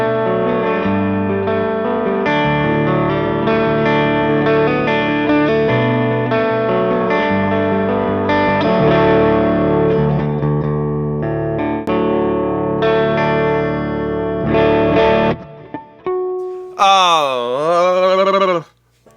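Electric guitar with humbucker pickups and the treble bleed removed, sounding bright through a distorted, effected amp: a steady run of chords and riffs, then a wobbling bent note after a brief break, with no voice over it.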